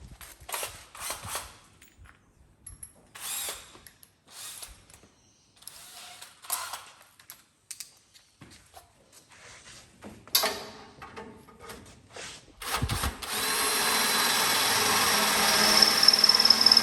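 A power drill bores a hole through the steel chassis of a Holden Torana, in short bursts of whirring and clatter that build into a sustained, louder grinding run near the end.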